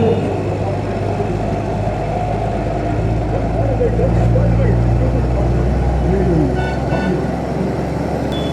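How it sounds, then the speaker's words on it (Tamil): Heavy road traffic at Madurai's Periyar bus stand: a steady drone of engines, short horn toots sounding here and there, and people talking over the noise. "கொஞ்சம் ரொம்ப டிராஃபிக்காகவே இருக்கிற மாதிரி இருக்கும்."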